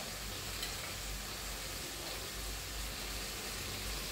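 Pav bhaji masala hitting hot oil in a tempering, giving a steady, close, even frying sizzle with no talk over it.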